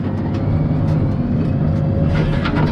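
A log skidder grinds over hilly ground in the woods, a loud, continuous close diesel engine drone with heavy low rumble and clanking, no voices over it.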